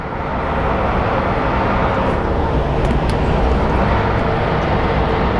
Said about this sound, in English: And there's our little A319.